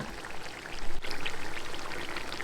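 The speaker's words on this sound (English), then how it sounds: "you want to add in your Worcestershire sauce" Worcestershire sauce pouring in a steady, close trickle for a couple of seconds, a soft liquid stream with small splashes.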